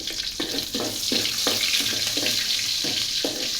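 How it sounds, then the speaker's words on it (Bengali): Garlic frying in hot oil in a home kitchen, a steady close sizzle with a rhythmic series of soft scraping stirs, no talking. "তেল গরম হয়ে গেছে দিয়ে দিচ্ছি রসুন"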